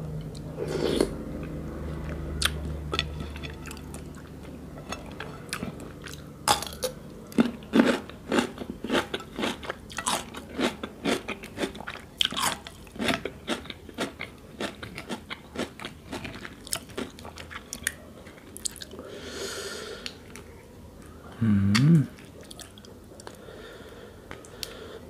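Close-up eating of pickled crab full of juicy roe with a spicy dipping sauce: repeated wet bites, squishy crunches and chewing in an irregular rhythm, with a louder crunchy burst near the end and no talking.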